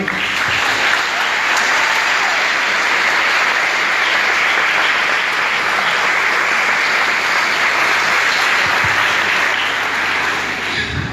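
A church congregation applauds loudly and steadily for about eleven seconds, a dense continuous wash of clapping with no talking.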